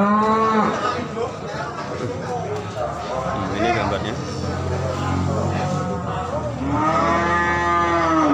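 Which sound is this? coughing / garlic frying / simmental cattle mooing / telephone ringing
simmental cattle mooing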